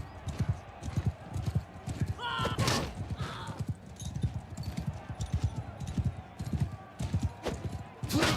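Horse hooves clip-clop steadily through a Bannerlord battle as a mounted rider carries a spear, with a horse's whinny partway through and someone talking over much of the galloping.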